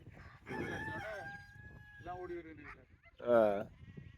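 Sheep bleating on a Tamil-run farm in Canada, several wavering calls spread over a few seconds, with a louder, nearer bleat toward the end and people talking faintly in between.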